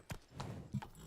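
Horse hooves on a mount in The Witcher 3: Wild Hunt, a few distinct, fairly loud clip-clop strikes spaced unevenly over about a second with no talking.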